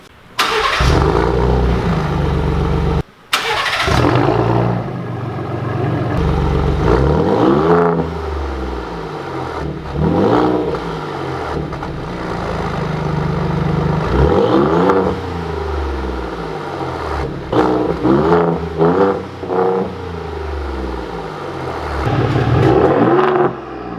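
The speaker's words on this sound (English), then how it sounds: "You hear so much more turbo now, like it's it's really good." A 2020 Ford Raptor with turbocharged engine and X-pipe exhaust revs repeatedly and loudly up close, with a turbo whoosh through rising and falling throttle blips.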